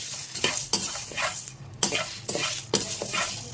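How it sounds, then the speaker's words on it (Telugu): Pepper, fennel, cumin and bay leaf dry roasting in a pan, stirred with a spoon in a steady rhythm of scraping strokes over a light crackling sizzle, close and clear. "మిరియాలు, సోపు, జీలకర్ర, బిర్యానీ ఆకు అన్నీ వేసుకొని దూరగా వేయించుకోవాలి"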